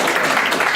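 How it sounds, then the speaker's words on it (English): Audience applause in a workshop setting, a dense wash of clapping hands that fills the whole short clip at steady loudness with no voices over it. "Let's give Carla a nice round of applause"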